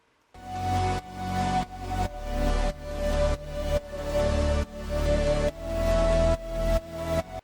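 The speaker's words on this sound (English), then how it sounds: "All my other instruments in the drop are also sidechained to the same rhythm" Drop of an emotional future bass track made in FL Studio, with layered synths and bass all sidechained so they pump in a steady rhythmic swell, each beat ducking and rising, loud and with no speech.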